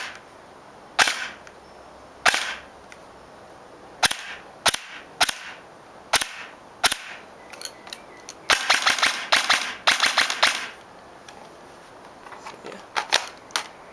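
An airsoft electric gun fires sharp, close-range cracks, mostly quick paired shots from a two-round burst setting, with one longer rapid string in the middle, separated by short quiet gaps.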